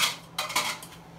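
Lobster macaroni and cheese sauce with pepper jack cheese stirred in a pot, heard as brief, quiet scraping and clinks of a utensil against metal, a few soft strokes in a row.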